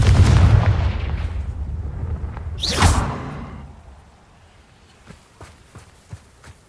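The Confringo fire spell exploding in the video game Hogwarts Legacy, a loud booming blast with a sharp whooshing streak midway, then fading to quiet with a few soft footsteps and taps.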